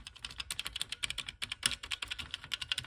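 Keys clatter steadily on the keyboard of a Moldovan BYTE, a ZX Spectrum clone computer. The presses come in quick, close, fairly loud bursts with an irregular rhythm, and no voices are heard.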